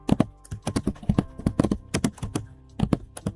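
Fingers type in quick bursts of crisp clicking keystrokes on a computer keyboard, close and clear, with brief pauses between short flurries.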